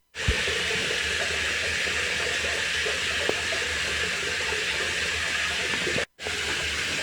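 A cold shower runs in a steady, close, continuous hiss of falling water, broken only by a brief cutoff near the end.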